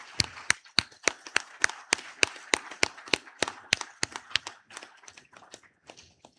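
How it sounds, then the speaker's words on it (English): Sparse, distinct hand claps from a small audience at a convocation ceremony, a steady run of sharp separate claps close by that thins out and fades toward the end, with no voices. "Ladies and gentlemen, let's applaud him"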